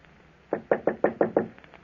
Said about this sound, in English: I was in my office when I heard a knock on the door